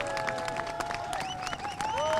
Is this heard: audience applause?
yes